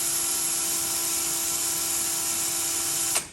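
A power drill with a dull bit whines steadily at high pitch while boring through a metal NuTone door chime tube, loud and close, then cuts off abruptly at the end.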